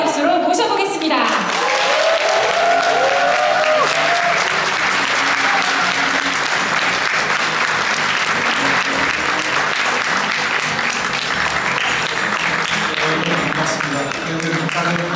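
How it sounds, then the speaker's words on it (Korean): An audience greets Seoul mayor Oh Se-hoon with loud, sustained applause at an indoor gathering, a thick continuous clatter of many hands with a few voices mixed in. "동행매력특별시 서울을 만들어 가시는 오세훈 시장님을 뜨거운 환영의 박수로 모셔보겠습니다."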